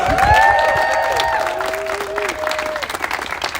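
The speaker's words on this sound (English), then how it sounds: "Big round of applause to him, too." Audience applause at a press conference, a dense burst of clapping that starts loud and slowly thins over a few seconds, with cheering voices mixed in.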